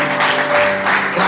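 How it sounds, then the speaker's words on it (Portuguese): Church congregation clapping loudly during a Portuguese-language worship service, a dense continuous burst of applause filling the room with a faint sustained tone beneath. "Você pode aplaudir o Senhor mais uma vez?"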